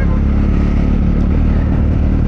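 A Triumph Scrambler 400X motorcycle engine held on the throttle during a test ride, producing a loud, steady, close engine roar with constant intensity and no talking over it.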